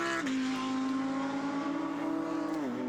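Porsche race cars racing in a Belcar series round at a Belgian circuit, a loud sustained engine drone with a pitch dip and gear change before holding steady, then dropping again near the end.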